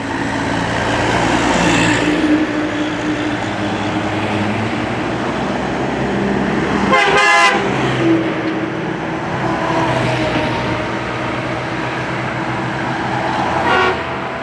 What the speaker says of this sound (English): You hear him blowing the horn behind me?